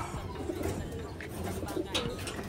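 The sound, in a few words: pigeons cooing in a loft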